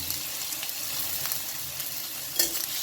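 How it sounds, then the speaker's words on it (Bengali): Chopped onion fries in mustard oil in a wok with a constant close sizzle and light spattering. A single sharp utensil clink sounds near the end. No voices. "এবার এই তেলের মধ্যে আমি দিয়ে রাখছি চপ করা পেঁয়াজ"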